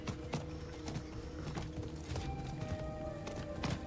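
Rhythmic hoofbeats of a horse in Diablo clip-clop steadily at a trot over a busy game soundtrack with background tones, moderately loud and continuous.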